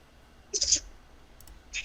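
Dice rolled during a tabletop Dungeons & Dragons session: a quick burst of light clicking and rattling, then a faint tap and a second short rattle, close and fairly quiet.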